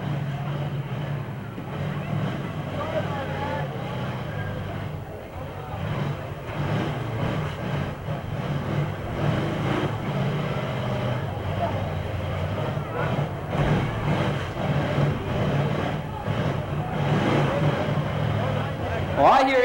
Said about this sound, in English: I hear engines running down there